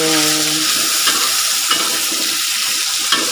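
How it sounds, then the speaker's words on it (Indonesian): Jengkol frying in a pan sizzles loudly and steadily throughout, with a few stirring scrapes and a brief hum at the start. "Di video kali ini saya mau masak jengkol goreng kecap."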